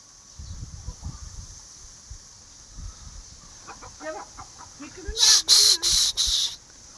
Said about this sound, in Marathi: ए कोंबड्यांनो